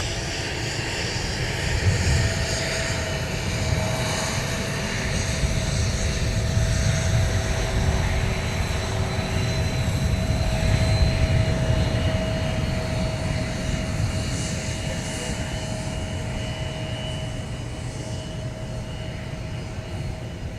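A Delta airliner with a blue tail at Minneapolis–St. Paul airport, its engines giving a steady, moderately loud whine and rumble with a sustained tonal hum, continuous and unchanging, with no voices.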